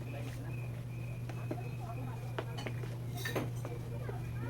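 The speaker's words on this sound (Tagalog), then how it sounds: "haluin pa natin ang haluin hanggang sa siguradong matunaw yung lahat na ingredients na nilagay natin" Spoon stirring a thick homemade dishwashing liquid mixture in a container, with scattered clinks and scrapes over a steady low hum.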